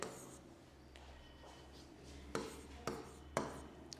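A teacher writes on a board in a quiet classroom. Faint scratchy strokes give way to three distinct sharp taps near the end over a low room hum.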